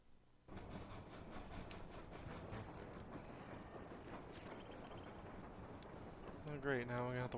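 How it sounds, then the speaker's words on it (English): A train rolls past steadily in the video game Sly Cooper 4, with a faint rumbling clatter that starts suddenly and holds, then a brief burst of game sounds near the end. "now we have to wait for the train again"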